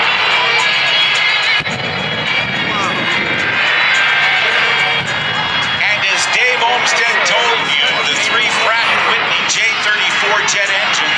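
A jet aircraft powered by modified J-34 jet engines with afterburners roars loudly and continuously at an air show, while an announcer talks over it.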